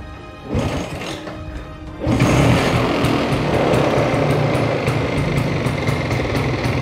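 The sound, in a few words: Vespa scooter engine being started and running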